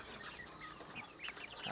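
Chickens clucking at a backyard poultry pen, faint and steady, with a few short higher calls rising near the end.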